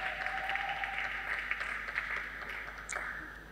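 A church congregation at a religious wedding breaks into steady, sustained applause, a broad wash of many hands clapping at moderate distance throughout.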